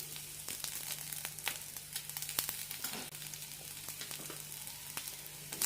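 Grated coconut sautéing in a pan with curry leaves, red chili, garlic and ginger, a soft continuous sizzle with scattered crackles and the occasional scrape of stirring, with no voices.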